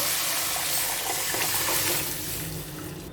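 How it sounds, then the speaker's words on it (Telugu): Lentil rasam (pappu charu) is poured into a pan of tempering with curry leaves. A continuous, close liquid gush and splash runs through the whole stretch and eases slightly at the end. "ఇప్పుడు ఈ పప్పు చారుని ఇందులో వేసేసుకుందాము"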